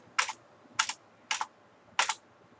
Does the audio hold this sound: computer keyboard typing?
yes